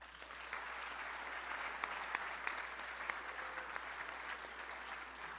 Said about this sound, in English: let's give yourselves a round of applause for being here